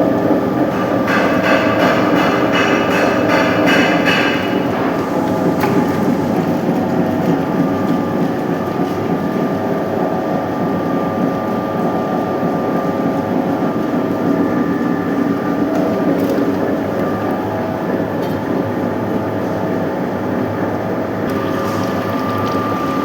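A running oil expeller (oil chuck) mill presses oil, its loud, continuous mechanical clatter and ratcheting grind repeating steadily close by, with no voices.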